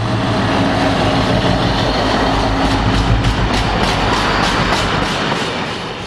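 British Rail class 60 locomotive 60074 in light blue special livery rolls by with its train, a loud close passing with steady engine drone and rhythmic clicking of wheels over rail joints.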